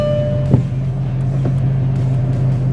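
A Mercedes-Benz CL500 pulls away with its handbrake applied, a steady low engine drone close by, with a couple of brief knocks and clunks early on.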